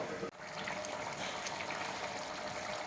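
Boiled rice for chicken biryani being drained, with water pouring and trickling steadily through a strainer, close and continuous, no voices.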